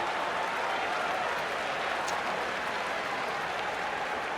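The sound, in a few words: cricket crowd applauding at England v India Test match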